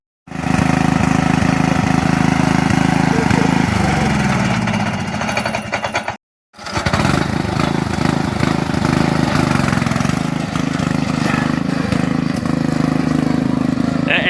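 A lawn mower engine converted for racing runs steadily and loudly up close, with a throaty drone that dips briefly, cuts out for a moment, then resumes at a steady pitch.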